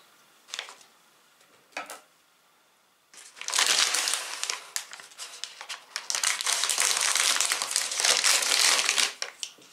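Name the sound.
crinkling bag of Lorenz Naturals classic chips being opened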